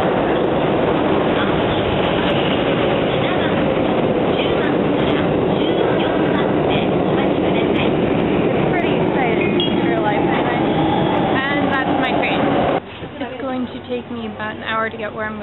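A train rumbles loudly and steadily into a platform, with dense mechanical noise throughout and a brief shift in tone near the end.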